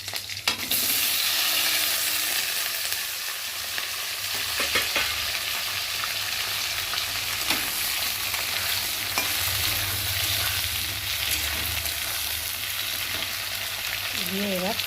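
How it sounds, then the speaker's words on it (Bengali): Cut potatoes frying in hot oil in a pan for a hilsa fish curry, a steady dense sizzle lasting throughout with occasional stirring scrapes, close and loud with no talk. "বেশ আলুটা লাল লাল করে আমি ভেজে নিয়েছি"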